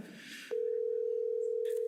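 An iPad sounds a steady, unbroken phone call tone that cuts in abruptly after a brief stretch of hiss and keeps going at an even level, with a short burst of noise at the end.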